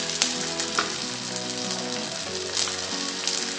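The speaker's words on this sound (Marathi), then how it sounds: "तर कापडावर थापलेले थालीपीठ मी तव्यावर टाकून घेते." Thalipeeth, a fasting flatbread, fries in ghee on a hot tava, giving a soft, steady sizzle with scattered small crackles and pops, quiet and close with no talking.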